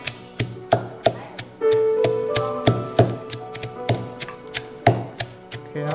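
A spicy paste for home-style baked duck is pounded in a mortar: sharp, regular thuds of the pestle land close and loud, with a few short ringing knocks between strikes and no talking.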